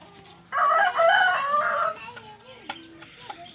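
A loud, drawn-out hen call rings out close by, followed by a few softer clucks and quiet background noise.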